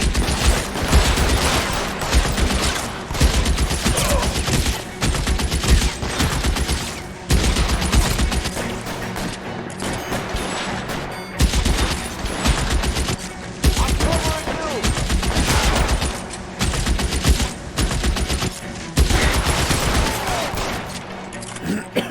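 Sustained heavy gunfire from a mounted gun in the L.A. Noire video game, loud bursts of automatic fire that keep rolling on through the whole stretch, with shouted voices and battle noise mixed in.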